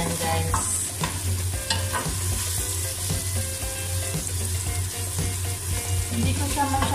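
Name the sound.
chicken gizzards and hearts frying in a pan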